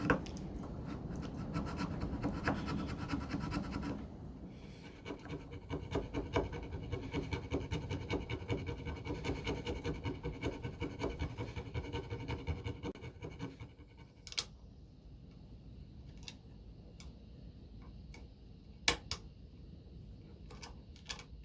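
Hand tool scraping and rubbing steadily in a wooden guitar neck cavity to tidy truss rod access, close and quiet, continuing for about fourteen seconds before tapering to a few faint scrapes and taps.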